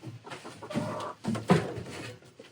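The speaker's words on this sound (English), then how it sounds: "I have the chickens pecking at the bottom of the tripod" Chickens in an enclosed chicken run clucking continuously around the base of a tripod, close and fairly loud, with irregular pecking and rustling.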